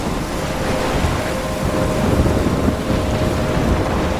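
Thunderstorm with heavy rain in the video game Life Is Strange, a dense continuous roar of downpour and rumbling thunder with wind, loud and steady throughout with no talking.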